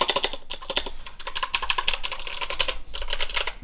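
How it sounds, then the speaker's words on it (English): Rapid, steady clicking from typing on a Razer BlackWidow Elite mechanical gaming keyboard, close up and continuous, with no voice. "And obviously the keyboard itself, that sounds like this."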